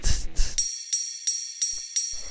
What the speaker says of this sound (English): So this is just a standard ride cymbal